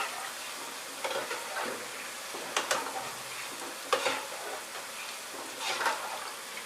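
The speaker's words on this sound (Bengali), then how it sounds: "বোঁদে ভাজাটা কিন্তু খুবই সহজ, মিহিদানার মতো অত অসুবিধা হয় না বোঁদে ভাজতে" Boondi, small drops of gram flour batter, frying in hot oil make a continuous crackling sizzle, with several brief louder bursts of bubbling and stirring throughout.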